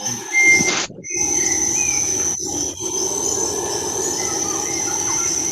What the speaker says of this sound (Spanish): Se escuchan grillos, se escuchan pájaros.